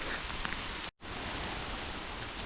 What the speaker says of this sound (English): I'm gonna wait for a couple of minutes to see if the rain calms down a bit